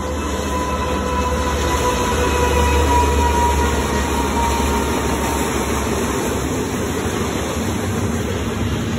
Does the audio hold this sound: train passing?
yes